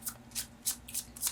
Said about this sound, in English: I only take jumpers from the deck, so sometimes it takes a little bit more time shuffling